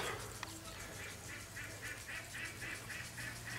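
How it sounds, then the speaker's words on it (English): Sebastopol geese honk in a steady run of repeated, evenly spaced calls, moderately distant, over faint outdoor background noise. "I'm gonna check on the geese."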